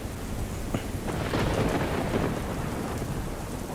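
Heavy downpour in Ahmedabad during flooding, a loud, dense, steady hiss of rain pounding surfaces with a low rumble underneath.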